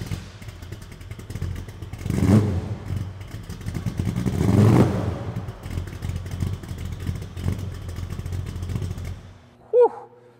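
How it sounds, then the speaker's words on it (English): A 1967 Ford F100 restomod's V8 engine with X-pipe exhaust cranks and fires up, then settles into a deep, rumbling idle with a couple of throttle blips, close and loud. "Let's go ahead and hear how that X-pipe sounds when we start this thing up."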